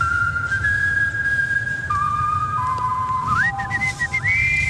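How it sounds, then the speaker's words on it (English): A person whistles a melody live in a radio studio, clear tones sliding between pitches over a steady low background hum, with no talking. "it's not every day you get somebody from the Whistling Hall of Fame to come down again"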